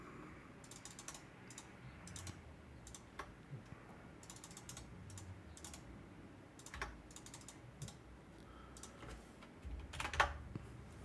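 Quick typing on a computer keyboard comes in bursts of rapid clicks separated by short pauses, fairly faint and close, with no talking.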